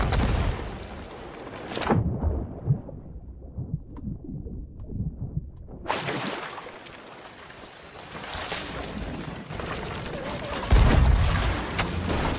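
Ship cannons fire in a multiplayer pirate ship video game. Heavy booms and blasts hit at about three points against churning water and game noise, with the loudest crash near the end.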